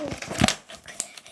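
Paper being folded along a center line for a craft, crinkling and soft creasing noises close by, mixed with a voice speaking.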